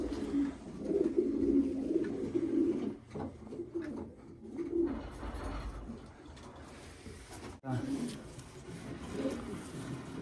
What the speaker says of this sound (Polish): Gołębie rozkładowe z Holandii, co przywiozłem